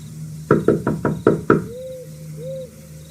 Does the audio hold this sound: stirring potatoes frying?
no